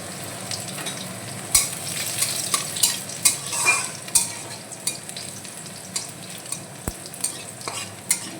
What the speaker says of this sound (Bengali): রসুনটা আমার ভাজা ভাজা হয়ে গেছে